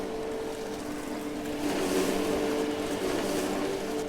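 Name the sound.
mower driving at cruise control speed in video game Farmer's Dynasty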